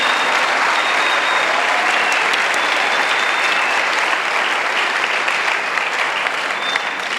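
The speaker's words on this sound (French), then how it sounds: "Let us clap for Jesus." A large crowd at an evangelism crusade in Douala claps for Jesus, steady loud applause that fills the space without a break.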